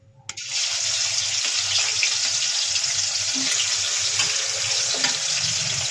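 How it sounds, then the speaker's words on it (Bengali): Prawns fry in plenty of hot oil for a Bengali dish of prawns with taro stolons, making a loud, continuous sizzling hiss that starts abruptly after a brief quiet moment and holds steady, with small pops. "এবার আমরা চিংড়ি মাছগুলো ভেজে নেব।"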